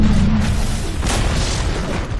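Dire's top tower crumbling in Dota 2, a deep booming rumble that fills the moment, with a brighter crash of debris partway through, loud and close with no voices.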